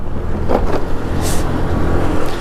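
A steady engine drone from a modified Hero Honda Pleasure scooter with excessive buzzing, rough and continuous at close range, with brief swishes of passing traffic.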